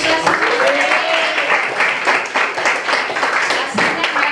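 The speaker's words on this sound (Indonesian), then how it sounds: "tepuk tangan buat kita sendiri" Students in a classroom lesson applaud themselves with a burst of many hands clapping, fairly loud and close, sustained for several seconds while a voice sounds briefly at the start.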